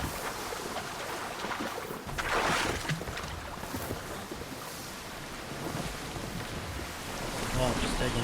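Ocean waves in the game Assassin's Creed Odyssey, a steady wash of surf and wind around a sailing boat, with a louder surge midway and again near the end.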